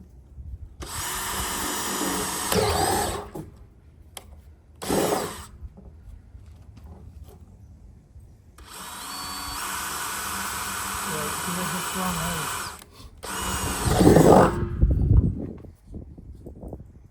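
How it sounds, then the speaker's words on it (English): A jigsaw cuts barrels in half for new garden beds, sounding in several loud, sustained rasping bursts separated by pauses, with a few short knocks and some voices nearby. "we're going to use a jigsaw to cut them in half"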